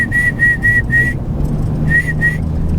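A person whistles a series of short, clear, evenly spaced high notes, four in a row, then a pause with faint background rumble, then two more notes.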